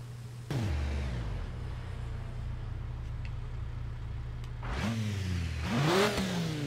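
A car engine in Forza 6, fitted with short home-welded cut-out exhausts, bursts into a loud rev, holds a rough idle, then revs hard again several times near the end, with no talk over it.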